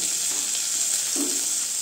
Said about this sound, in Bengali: দিয়ে হালকা একটু ভেজে নেব পেঁয়াজটাকে।